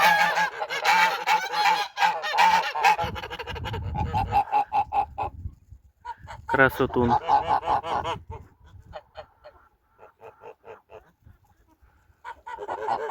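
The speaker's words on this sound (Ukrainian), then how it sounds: "І ось така чубата гусочка." Geese honk in a farmyard flock that includes a crested goose, loud close calls in bursts with pauses between, mixed with some lower grunting and clucking from other fowl, and a brief spoken word.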